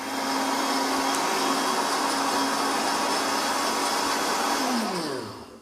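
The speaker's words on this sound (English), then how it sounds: "So I'm going to blend this." A kitchen blender whirs through a milk smoothie with a loud, steady high-pitched motor whine for several seconds, then spins down at the end. No one talks.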